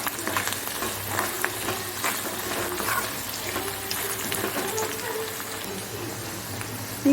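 Ginger, green chili and turmeric fry in a pan for Karnataka-style chitranna. The sizzle is steady and close, with stirring scrapes and light clatter running through it.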